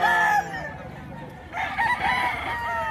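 A gamefowl rooster at a fighting-cock farm in Bocaue, Bulacan crows loudly and close by, two drawn-out calls separated by a brief lull, with other birds faintly in the background.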